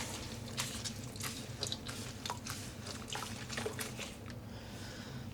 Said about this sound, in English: And squeezing out the water.